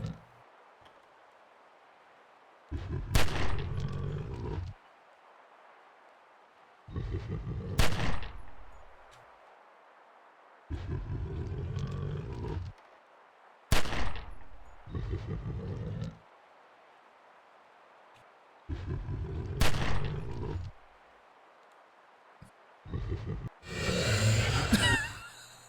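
Gunfire in the video game Dracula 2: The Last Sanctuary comes as six separate sharp shots spaced several seconds apart, each with a brief echoing tail, followed at the end by a louder burst.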